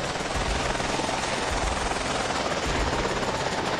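A helicopter in the mobile game Sakura School Simulator gives a continuous dense rotor roar with a steady low thumping pulse, loud and unbroken throughout.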